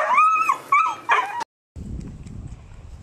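A stray dog that wandered onto farm property whimpers and yips close by in a few rising, whiny cries, then goes quiet before a low, rumbling background noise takes over.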